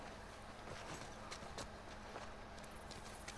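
Horse hooves clip-clop in the video game The Last of Us Part 2, a faint, steady patter of hoofbeats under a noisy background.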